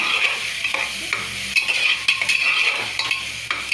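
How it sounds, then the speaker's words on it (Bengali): Spice masala for rajma stirred and sautéed in oil in a pan: steady close sizzling with repeated spoon scrapes and clinks against the metal, continuous throughout with no talk. "যত কষাবে মশলাটা তত রান্নাটা ভীষণ ভালো হবে"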